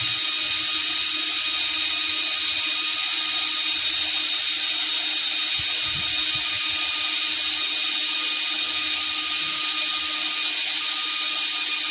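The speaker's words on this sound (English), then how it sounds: "So let's try to drill through this 10 mm." Nanwei cordless drill fitted with a 13 mm bit boring steadily through material under firm downward pressure, a loud continuous high-pitched whine and grind holding for the whole stretch with no voices.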